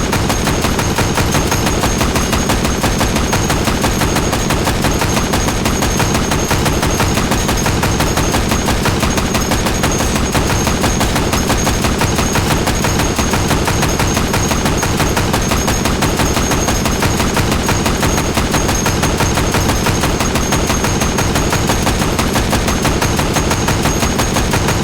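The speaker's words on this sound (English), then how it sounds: "Next up, the M2 Thompson" M2 Thompson submachine gun fired in the VR shooter H3VR: loud, dense automatic bursts rattling continuously and close for the whole stretch, no talking.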